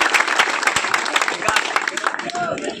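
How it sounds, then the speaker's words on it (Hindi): An audience at a fire service week event applauds the winners with a brisk burst of clapping, sharp claps standing out near the front before the sound thins toward the end. "ताली, जोरदार ताली होनी चाहिए"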